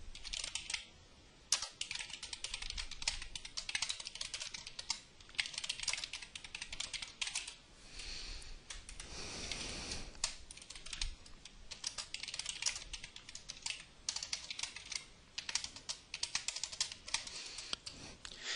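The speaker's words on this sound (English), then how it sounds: "There'll be a little bit of typing here." Rapid typing on a computer keyboard, close up, with irregular bursts of key clicks and short pauses in between.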